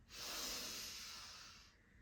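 A single long, soft breath rushes steadily in a breathing exercise, an inhale or exhale lasting under two seconds, close and alone without talk.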